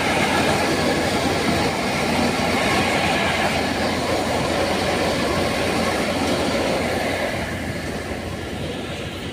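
A tractor runs steadily through a guar harvest in the fields, giving a continuous, loud, broadband mechanical rumble and clatter with no talk over it.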